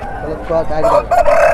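A rooster crows at a country chicken market in Nallapadu, the call rising near and loud over crowd chatter and other fowl.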